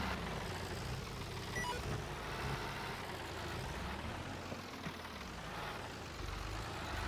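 A truck engine in the Farming Simulator 22 video game climbs a hill in second gear, making a steady, heavy low rumble that holds constant throughout.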